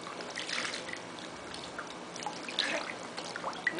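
Water splashes and trickles out during a baby's bath, a soft continuous pouring and dripping sound heard close up with no talking.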